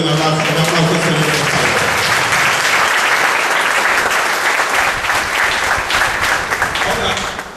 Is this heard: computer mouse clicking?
no